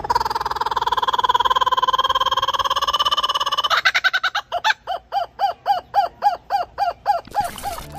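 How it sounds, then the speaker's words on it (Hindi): An Australian kookaburra gives its loud laughing call: a long rolling trill that builds into a rhythmic series of repeated hooting cackles, close and alone. "कूकाबूरा ऑस्ट्रेलिया का एक अनोखा पक्षी है जिसे उसकी जोरदार और हंसने जैसी आवाज़ के लिए जाना जाता है।"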